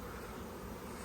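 Dense, steady buzzing of a mass of honeybees crowding a feeder during a spring hive inspection, a continuous close hum with no voices.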